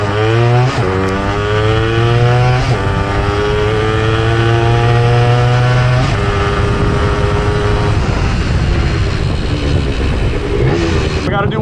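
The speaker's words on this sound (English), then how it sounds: "Wow, this bike just zooms! It zooms! This bike zooms now!" A vintage two-stroke motorcycle with an aftermarket silencer accelerating hard, close and loud, its engine pitch climbing through several gear changes in a steady rising whine.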